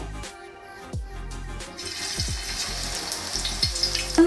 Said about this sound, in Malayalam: ഇനി എണ്ണ തിളച്ചിട്ടുണ്ട് അതിലേക്ക് നമ്മൾ ഇനി ഇതിട്ട് വറക്കാം